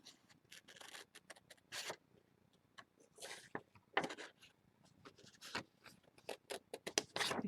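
Scissors cut through paper to make building silhouettes for a sunset collage, giving close, quiet, irregular snips and rustling scrapes with short pauses between them.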